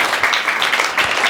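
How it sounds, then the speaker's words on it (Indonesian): A short burst of audience clapping from children at a library storytelling event, brief, moderately loud and busy, with no talk over it. "tepuk tangan dong semuanya"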